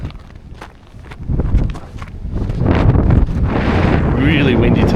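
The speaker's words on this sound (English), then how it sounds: "Really windy today, so really hoping you can hear me." Heavy coastal wind at Nazaré, Portugal, buffets the microphone in rising, roaring gusts, with scattered footsteps underneath and the blustering growing louder toward the end.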